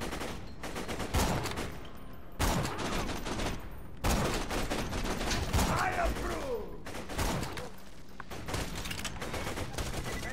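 Sniper rifle fire in Borderlands 2, mixed into a dense, continuous exchange of loud gunfire and bursts with repeated heavy shots in close succession, with voices talking under the combat.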